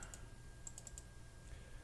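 Computer mouse clicks in a quick, faint cluster of a few sharp taps, then one more lone click, set against a low steady hum with no talking.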